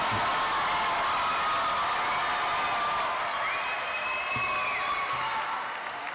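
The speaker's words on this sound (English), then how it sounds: "Give them a big round of applause to tell them how much you love them" Commencement crowd at a business school graduation applauding and cheering in a steady, dense roar of many hands and voices, with a few whoops rising over it and holding loud throughout.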